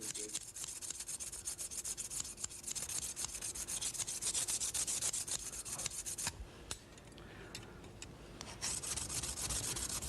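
Steel blade laid flat and rubbed back and forth on a sharpening plate to take off the burr, a steady close gritty rasping that runs continuously with brief pauses, alone with no voice.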